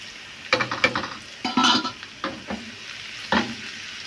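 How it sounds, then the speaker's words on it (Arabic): Garlic sizzling in a pan for molokhia, with stirring scrapes and clinks of a utensil against the pot in several short bursts over a soft background frying hiss. "نحمر بقى شويه الثوم ونحطهم على الملوخيه"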